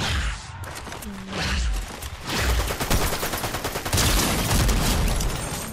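Gunfire in the video game Fortnite, dense bursts of rapid shots and booms that build into a continuous loud fusillade over several seconds, with no voices.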